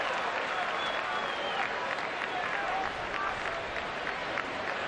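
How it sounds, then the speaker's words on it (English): A baseball crowd at Fenway Park gives a sarcastic round of applause during a damp Cubs–Red Sox game, dense steady clapping and crowd noise lasting throughout without a break. "Sarcastic round of applause."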